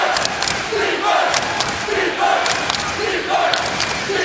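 A record crowd at the Levy Center roars during a college basketball game, a loud, continuous wall of cheering and shouting that swells in repeated waves, with a faint voice barely audible beneath it.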